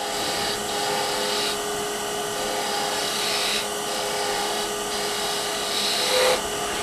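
A Hunter Hercules woodturning tool cuts a bead on a spinning workpiece on the lathe, a steady whirring scrape with a constant motor hum and small variations as the tool moves along the wood.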